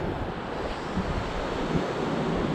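Surf on Varka beach on the Goa coast: a steady, broad roar of waves, with wind buffeting the microphone, continuous and fairly loud, with no voices.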